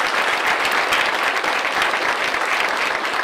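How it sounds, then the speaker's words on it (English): Applause from the audience at a drag racing industry awards event rolls on steadily for a few seconds, a dense, continuous clatter of many hands at close range with no speech over it. "let's give Dallas like a round of applause on the cover of the magazine"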